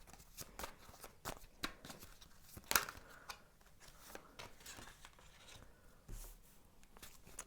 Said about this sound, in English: I'm gonna shuffle some more cards